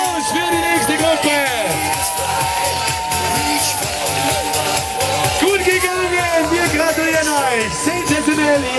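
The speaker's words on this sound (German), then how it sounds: "Applaus für die nächste Gruppe." A dense crowd at a demo night cheers, whoops and shouts for an incoming group of athletes, a loud sustained roar of many voices close by throughout.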